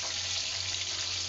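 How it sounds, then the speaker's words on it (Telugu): Chicken sizzling as it fries with salt, chilli and masala: a steady, close hiss of hot oil crackling without pause, no voices. "నేను చికెన్ తినను కానీ చికెన్ ఫ్రై చేస్తున్నాను."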